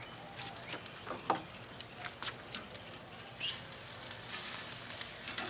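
Lamb chops sizzle on a Grill Dome kamado grill, a steady close crackle with scattered louder pops and spits throughout, and no talk.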